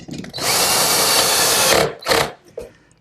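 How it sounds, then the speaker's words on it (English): A power drill drives screws into a walnut table rail from inside the joint, one long steady whine of the motor followed by two short bursts, close and alone. "clamp it in place, and then attach it with some screws from the inside"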